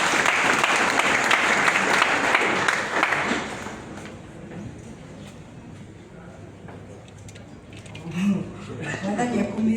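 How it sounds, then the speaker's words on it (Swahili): An audience at a gathering breaks into loud, dense applause that fades after a few seconds, then picks up again near the end as a voice talks. "Wapigieni makofi."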